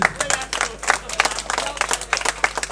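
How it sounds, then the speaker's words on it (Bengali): Applause from a crowd at a neighbourhood Ganesh puja club celebration, honouring the mouse vehicle of Ganesh; brisk, dense clapping bursts continue steadily for a few seconds at moderate loudness. "তাই বাহনের জন্য এটা জোরে হাততালি হবে"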